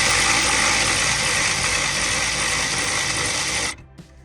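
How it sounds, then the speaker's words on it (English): Power driver spinning out 12mm bolts while a Honda S2000 gauge cluster is removed: a loud, continuous motor whir for several seconds that stops suddenly, followed by a small click. "we're gonna take these 12mm bolts out. I loosened them. We're gonna use a power driver."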